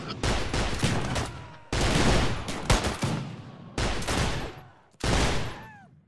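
A loud, dense video game shootout with heavy overlapping automatic fire and explosive cracks in four long bursts separated by brief gaps, and a faint descending whistle in the last burst.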